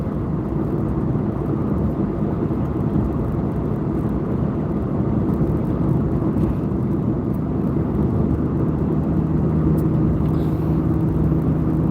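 A car's interior rumble of engine and road noise continues as it cruises along, a steady, loud low drone with no talking over it.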